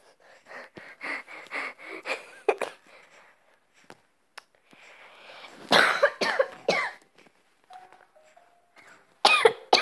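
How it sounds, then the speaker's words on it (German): A real coughing fit over gameplay: bursts of harsh coughs, throat clearing and gasping breaths in irregular clusters, separated by brief silences, loud and close with no speech. "Der beste Hustanfall der Welt"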